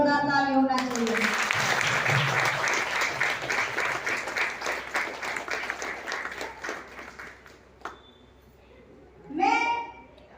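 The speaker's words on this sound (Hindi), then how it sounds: "एक बार अपने अपनों के लिए जोरदार ताली होना चाहिए।" Audience at a seminar in Rajnagar breaks into loud, dense applause that swells over several seconds, then tapers off, with a voice speaking over the crowd at the start and end.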